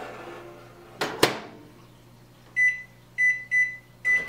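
Microwave oven of about 1200 watts, used to cook spaghetti squash, gives four short, bright beeps in a steady sequence near the end. Two sharp clicks come first, such as a door or button. No one speaks.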